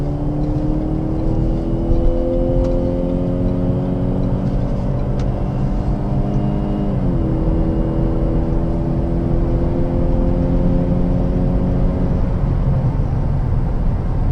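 2015 Ford Fusion with a 2-liter four-cylinder EcoBoost engine, 240 horsepower, accelerating onto a highway: a loud, steady cabin drone of engine and road noise, its tone rising, dipping at a gear change around midway, then climbing again.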